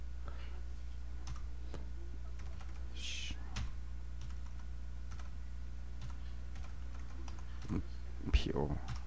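A computer keyboard is typed on in scattered light clicks over a steady low hum, with a brief louder knock near the end and no clear speech.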